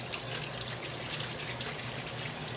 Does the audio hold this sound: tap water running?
yes